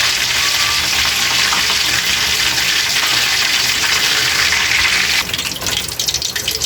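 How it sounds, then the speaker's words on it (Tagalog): Chicken wings fry in oil with a loud, dense, continuous hiss like rushing water, easing slightly in the final second. "hintayin na po natin maluto yung ating chicken"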